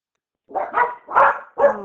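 A pet dog barks four times in quick succession, loud and close indoors, with a short whine-like tail on the last bark.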